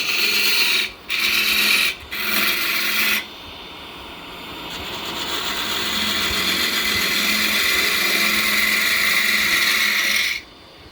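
A detail gouge carves the curved wall of a wooden box, with a close, gritty grinding rasp in a few short bursts and then one long continuous run before it stops.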